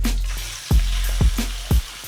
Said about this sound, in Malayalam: ഇതിനെ തിരിച്ച് മറിച്ചിട്ട് മൂപ്പിക്കണം. നല്ല വറുത്ത് വരണം.